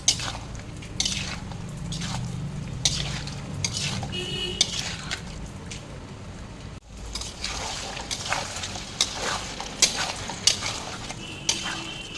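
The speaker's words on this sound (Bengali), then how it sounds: "এবার আমি ফুলকপিগুলো দিয়ে দেবো।" Cauliflower pieces drop into pre-fried spices and are stirred, with a moderate sizzle under repeated clinks and scrapes of a metal spoon against the pot.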